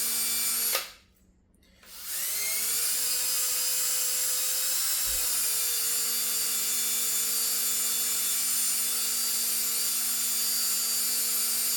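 A reel line stripper spins steadily to pull fishing line off a reel, giving a continuous whirring, drill-like motor drone close by with a short dip partway through, then an even hum.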